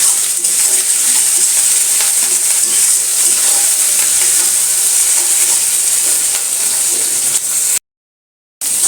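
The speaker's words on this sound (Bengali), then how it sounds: "টমেটোটা পুরো এখন মশলার সাথে ভেজে নেব" Chopped tomato fries with spices in a pan for a home-style chicken roast, a loud close steady sizzle with scraping stirring strokes, ending in a brief silent gap.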